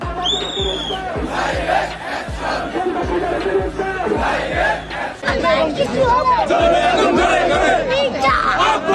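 A large crowd at a Bangladeshi political rally for the Dhaka-8 election chants slogans about BNP's Mirza Abbas in loud, rhythmic, repeated call-and-response bursts, with close, strong voices and cheering sustained throughout.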